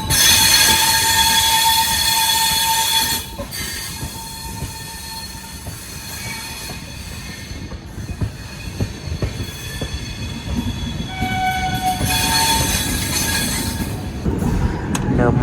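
The Ashram Express rolls through India as a train rumbles along steadily with squealing wheels and rail noise, while a shrill horn sounds at the start and again near the end, loud and close.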